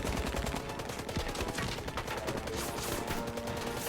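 Heavy rapid gunfire from a big mounted gun in the video game Syberia: The World Before, a dense, continuous burst of shots that stays loud and steady throughout.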